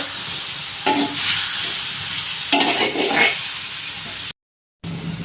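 Jackfruit seed stir-fry being stirred in a pan, with a spoon scraping through the mix in a few bursts over a steady sizzle, then a brief break in the sound.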